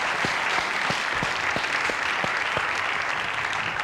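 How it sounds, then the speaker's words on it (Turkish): Studio audience applause on a 1998 Turkish television variety show, dense and steady, with a rhythmic beat of rhythmic clapping running through it. "Şimdi Harun Kolçak çağırıyoruz ve alkışlıyoruz."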